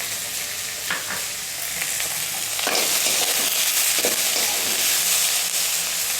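Onions frying in a pan for chuda upama, a steady broadband sizzle with occasional stirring scrapes, close and fairly loud, growing a little stronger partway through.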